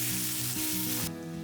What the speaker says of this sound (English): Now in 1 tablespoon oil, I'll crackle some cumin seeds, all the whole spices, chopped garlic and all vegetables